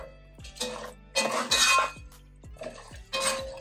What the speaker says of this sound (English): And we'll give that a mix so it gets nicely coated with the syrup